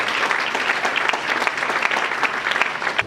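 A church congregation applauds: dense, continuous clapping from many hands, loud and sustained throughout, with a faint murmur of crowd voices beneath.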